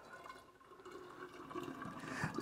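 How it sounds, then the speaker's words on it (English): Milky homemade coquito pours through a funnel into a bottle, a faint, continuous liquid gurgle that swells slightly toward the end. "And just fill your bottle up."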